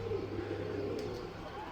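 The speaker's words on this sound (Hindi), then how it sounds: "कबूतर बैठ रहे हैं" Pigeons settling on a rooftop in the afternoon give soft, low repeated coos over a steady background hum, fairly close and moderate in volume.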